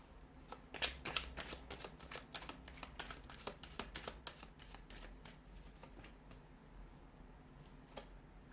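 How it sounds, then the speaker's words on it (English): Tarot cards being shuffled close up, a rapid run of crisp clicks and riffling flutters, loudest early and then tapering to scattered taps. "So we'll give the cards a shuffle"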